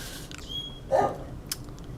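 A single short dog bark rings out, fairly close, with a faint higher yip moments later over quiet background noise.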